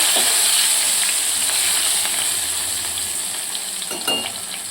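Finely chopped garlic and green chili frying in hot oil, a steady loud bright sizzle that slowly eases off with a few faint stirring clicks, close up and without talk.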